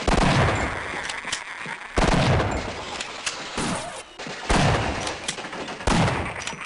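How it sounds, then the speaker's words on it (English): Shotgun blasts in Half-Life, loud booming shots every second or two, each decaying into a short tail before the next. "Press right mouse button to fire 2 shells."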